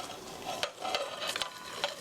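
Sliced onion being stirred into ground meat frying in a pan, with a steady sizzle under repeated scraping strokes of a utensil against the pan, close and fairly loud.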